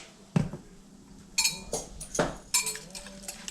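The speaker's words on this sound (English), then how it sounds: "And whisking it up." A utensil whisks zucchini fritter batter in a bowl, with irregular bursts of clinks and scrapes against the bowl, close by and separated by brief pauses.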